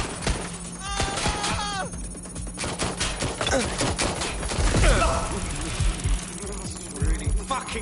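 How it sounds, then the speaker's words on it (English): Gunfire in a Watch Dogs: Legion shootout, sharp shots and bursts crackling irregularly amid game sounds and hum, with a voice speaking intermittently over the mix. "Shots fired."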